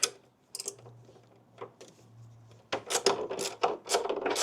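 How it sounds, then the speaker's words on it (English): A ratcheting wrench removes 10mm bolts from a motorcycle fairing, with sparse clicks at first, then a dense run of quick rhythmic ratchet clicks and scrapes close up, and no talk. "And I'm using a ratcheting wrench to get inside of here."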